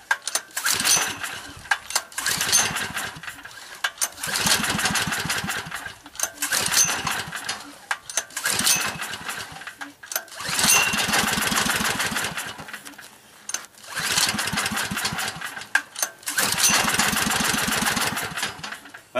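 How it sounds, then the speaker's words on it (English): Small generator engine running on wood stove smoke gas, sputtering and firing in uneven surging bursts with rapid chugging pulses, close up, with brief dips between. "you can hear it firing up a little bit"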